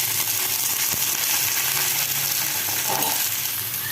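Chopped bottle gourd hits a hot pan of fried onions in a home kitchen, a loud continuous sizzle with a brief clink and stirring scrapes, close by and without talking.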